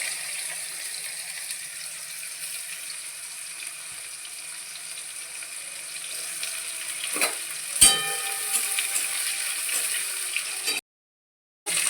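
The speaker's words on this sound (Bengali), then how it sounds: "শুকনো লঙ্কাটা, তেজপাতা সব সব ফোড়নে দিয়ে দিলাম। তেলের মধ্যে দিয়ে দেবো।" Dried red chillies and bay leaves sizzle in hot oil as a tempering, a steady close hiss with a sharp crackle near the end before a brief cut-out, with no voices.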